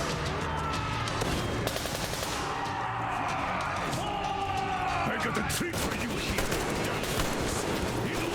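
Enemy gunfire in the shooter Metro Exodus, rapid bursts of shots crackling through a busy, continuous game mix, fairly loud and sustained with a player's voice occasionally over it.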